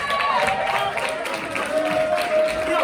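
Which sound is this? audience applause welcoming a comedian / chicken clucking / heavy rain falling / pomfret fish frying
audience applause welcoming a comedian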